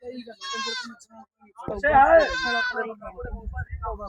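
Goats bleat in wavering cries at the Dhanaula goat market, one early and a louder one midway, amid the murmur of nearby voices and crowd bustle.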